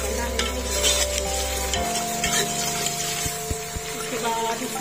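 Chopped onions fry in hot oil in a pot while being stirred, a close, steady sizzle with scraping stir strokes and a few sharp knocks against the pot, with no voices.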